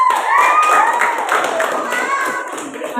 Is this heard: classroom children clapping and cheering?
yes